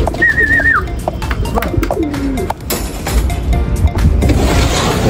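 Close racing pigeon cooing, a few soft warbling coos in the first seconds, followed by outdoor background noise and rustling.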